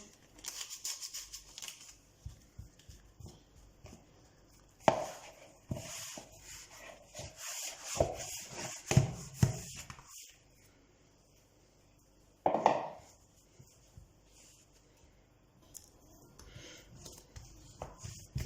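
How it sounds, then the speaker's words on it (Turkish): Hand kneading of soft börek dough made with flour and baking powder: close, irregular rubbing and pressing with soft scrapes and a couple of sharper thumps, with no voices. "Hamurumu yoğurdum"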